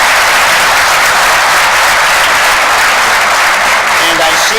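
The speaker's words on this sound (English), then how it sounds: "Again, let's give them a round of applause." A crowd at a police commission special meeting applauds police officers, loud, dense and steady clapping that fills the whole stretch without a break.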